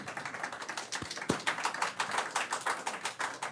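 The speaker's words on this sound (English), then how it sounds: "please hold your applause" A city council meeting audience claps, a dense patter of hands that runs steadily throughout at moderate volume.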